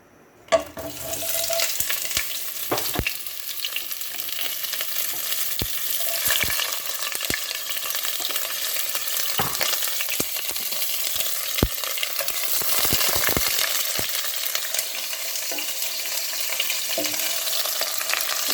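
Loud, steady sizzle of bay leaf, garlic and cardamom hitting hot oil, crackling continuously close by, with occasional sharp pops and spatula taps throughout.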